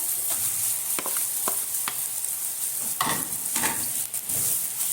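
Chicken liver and onions fry in a pan, a loud steady sizzle with sharp spatula scrapes and stirring clicks scattered throughout.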